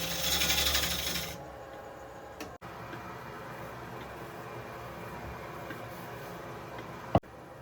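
A Hercules woodturning tool scrapes material from the side of a spinning bowl on a lathe, a steady rasping hum after a louder opening burst, with a couple of sharp clicks.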